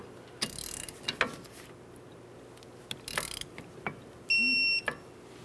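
An 11mm ratchet snugs a front brake caliper bolt on a 2008-2012 Jeep Liberty, giving short bursts of close metallic ratcheting clicks with brief pauses between them, plus a short electronic beep near the end.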